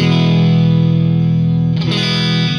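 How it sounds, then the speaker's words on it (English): Electric guitar strung with very light .07 gauge strings, played through distortion and effects, rings out as a loud sustained chord that shifts briefly near the end, with no talking. "let's tune up and hear what a 7 gauge string set sounds like"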